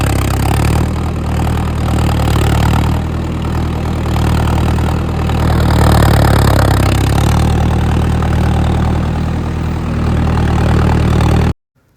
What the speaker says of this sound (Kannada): ಇದ್ರ ಸೈಲೆನ್ಸರ್ ಮಾತ್ರ ಸೌಂಡ್ ಮಾತ್ರ ಕಿತ್ಕೊಂಡು ಬರ್ತದೆ.